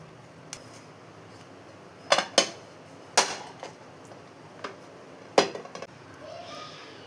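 Cooked ada, a Kerala rice-flour sweet, being lifted off a plate: a few sharp clinks and knocks of utensil on plate in separate bursts, with quiet gaps between them.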